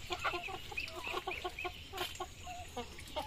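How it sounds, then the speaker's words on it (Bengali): A small flock of chickens clucks in short, overlapping calls at close range around a humble tin-roofed home, a soft, steady chatter of birds with no talk. "এই দেখো আমাদের মুরগিগুলো।"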